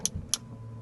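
Artificial startup chime of a Maserati Grecale Folgore electric SUV, two quick, bright, soft tones about a quarter second apart, faint inside the cabin over a low steady hum.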